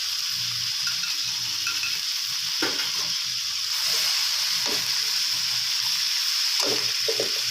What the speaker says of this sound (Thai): ผัดคลุกเคล้าให้ทั่วนะครับ